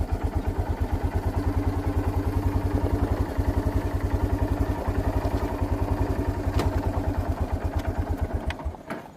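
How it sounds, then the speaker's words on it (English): A quad ATV engine runs steadily nearby in a junkyard, a rapid even putter of firing pulses that holds for several seconds before tapering off at the end, with no voices over it. "I apologize if the quad is in the background once in a while."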